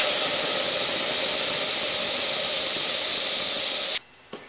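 A loud, steady rush of air escaping from a motorcycle tire valve with the valve stem pulled out hisses continuously for about four seconds, then cuts off abruptly, leaving near silence with a small click.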